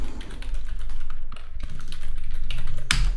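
Keys on a computer keyboard are tapped in a short, close sequence of soft clicks over a low background hum, ending with one sharper click.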